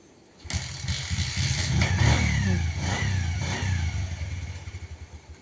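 A motorcycle engine with a minor fault starts up and revs loudly and close by, its throaty roar rising and falling before easing off.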